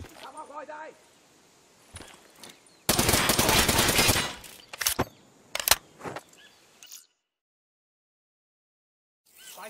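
Video game gunfire in Call of Duty Black Ops 3, a loud sustained burst of automatic fire lasting about a second, followed by several sharp isolated shots and thuds, with quieter game sounds and faint voices around it.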